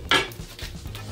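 A cast iron pan is set down on a stove with a single close, sharp metallic clank, followed by faint light knocks.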